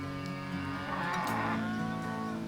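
Cattle lowing on a grassland ranch: one long, steady moo holds for a couple of seconds, loud and fairly close, with no voices over it.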